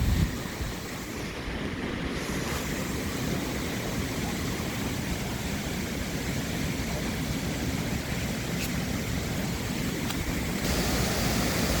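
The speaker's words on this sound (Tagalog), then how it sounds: "So dito nanggagaling yung falls." Water pours at the source of a very tall waterfall, heard from the top as a steady, dense, loud rush that continues without a break.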